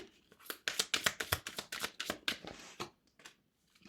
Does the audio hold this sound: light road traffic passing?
no